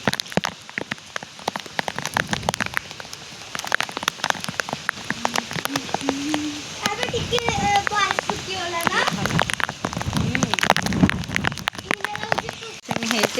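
Heavy rain with strong wind in Odisha pours down as a dense, loud wash of patter and splashing throughout, while a person talks over it at times.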